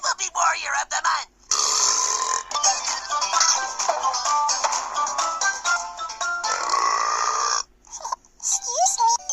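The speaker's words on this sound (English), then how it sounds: "I have the burps to prove I will be Warrior of the Month." Burps from a compilation, a run of loud, long, rough belches close to the mic, broken by short pauses, with voices mixed in over several seconds.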